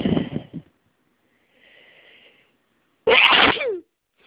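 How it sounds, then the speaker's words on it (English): A loud, explosive sneeze close up, preceded by faint sniffing and breathing, then silence. "that's my usual, completely unrestrained, uncovered sneeze"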